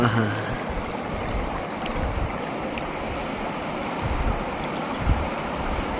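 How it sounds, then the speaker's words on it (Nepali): Cold mountain stream flowing steadily, a continuous broadband rushing and gurgling of water heard up close without a break. "सर बग्ने चिसो खोला"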